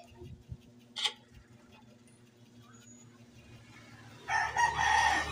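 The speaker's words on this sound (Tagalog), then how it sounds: "Ingay ng manok." A video game chicken crows loudly near the end of a Tong-its card game, following quieter background noise and a brief sharp sound early on.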